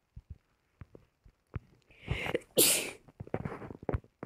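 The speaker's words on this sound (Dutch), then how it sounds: "Mooie nies." A single sharp sneeze bursts out loud and close, with a strong breathy peak after a short inhale build-up, surrounded by scattered small clicks and taps during a Dutch gaming session.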